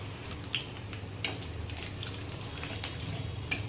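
Whole garam masala and bay leaf sizzle in hot oil, a close, steady frying hiss with small pops and crackles scattered throughout.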